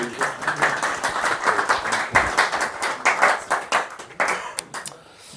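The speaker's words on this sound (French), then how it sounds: "on peut les applaudir" Audience at a French business presentation claps in a moderately sized burst, individual hand claps distinct and uneven, tapering off near the end.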